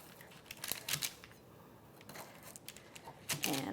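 A long knife slicing oat-based bars into roughly one-inch squares on paper over a board, a series of soft, quiet cutting thuds and crunches in an uneven rhythm.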